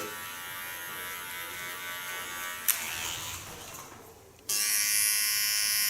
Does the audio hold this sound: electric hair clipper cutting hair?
yes